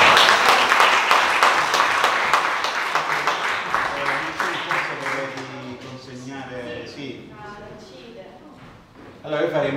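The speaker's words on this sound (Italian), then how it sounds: "Faremo un applauso a Giovanna." Audience at a book presentation in Sersale, Calabria, applauds warmly, a full round of clapping that gradually fades as speaking voices take over, then a brief burst of claps returns at the end.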